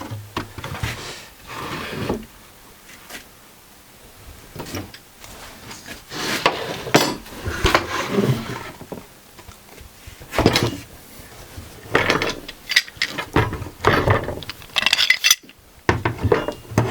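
On a wooden router fence being glued up in a workshop, clamps are fitted and tightened, giving a series of close metallic clinks, knocks and scrapes against wood, irregular and spread through the clip.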